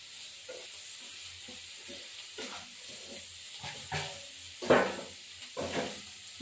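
Fish sizzles in hot oil in a pan with a steady hiss, broken by occasional clinks and scrapes of stirring, fairly close and moderately loud.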